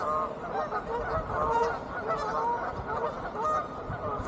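Flock of geese honking loudly and continuously in a dense, overlapping chorus of nasal calls, close by, with no other sounds standing out.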